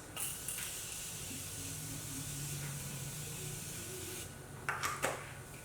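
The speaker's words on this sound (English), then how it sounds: "I think we're gonna use our Morphe setting mist." Morphe makeup setting mist sprayed onto a face, a soft continuous hiss running through most of the moment, followed by a few short closer bursts of spray near the end.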